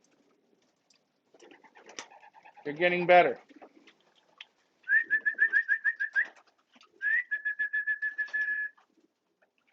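Pigeons cooing and calling near a feeding spot, several close rhythmic bursts of repeated coos and whistling notes separated by pauses, with a voice briefly speaking.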